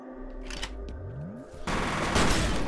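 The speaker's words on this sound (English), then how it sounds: "they just come in fucking shooting like that" Enemy gunfire in the shooter game F.E.A.R., a burst of rapid automatic shots erupting over tonal game sounds and a falling whine, loud and sustained to the end.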